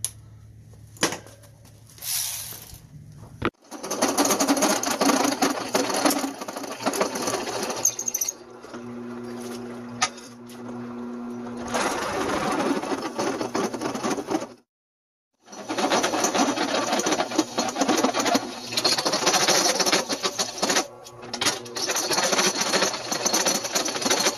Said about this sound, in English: So let's take it to the drill press and drill a hole in there.